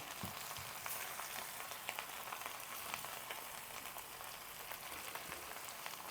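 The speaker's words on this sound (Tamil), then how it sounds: "இப்போ நாங்கள் இதை பொரிப்போம்." Steady, dense sizzling of fish frying in hot oil, with continuous crackling and popping throughout.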